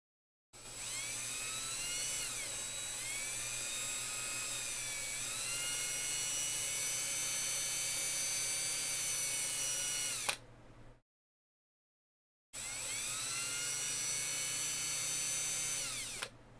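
A high-pitched rotary polisher whines steadily while polishing compound buffs a part from a Team Associated B7D RC car, running about ten seconds, stopping briefly, then spinning up again close and loud.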